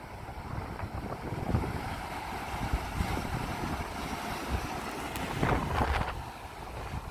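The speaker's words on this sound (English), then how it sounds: "Mostly getting the water as it recedes and comes off of that that little waterfall there." Ocean waves wash in and recede off a small rocky waterfall at Black Hole near Denmark, Western Australia, a moderate, continuous surging hiss with a couple of louder swells rising and falling.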